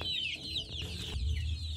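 Young chicks peep in a brooder, a cluster of high, thin chirps rising and falling close by, with soft low clucking underneath and no speech.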